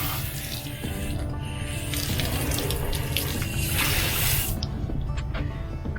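Water running and splashing at close range while a spill is washed off at a boat yard, a steady hosing rush that carries on throughout before easing near the end.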